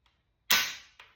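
The trigger of a freshly cleaned AK rifle snaps in a dry-fire: one sharp metallic clack followed half a second later by a softer click of the reset, close and isolated.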